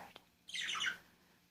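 A baby cockatiel gives a single short, harsh squawk, fairly close and moderately loud, after a faint click in a quiet room.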